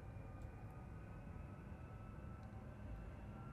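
Martin P6M-2 Seamaster jet engines spool up in Microsoft Flight Simulator, a steady, loud, dense roar holding evenly throughout with no voices.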